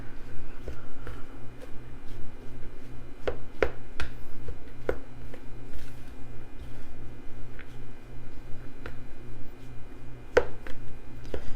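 Cauliflower rice being stirred together with tapioca flour and almond flour in a bowl, a series of sharp spoon taps and scrapes sounding at uneven intervals over a low steady hum.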